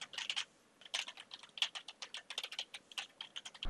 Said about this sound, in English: I'll just type a few things on my keyboard while I'm talking right now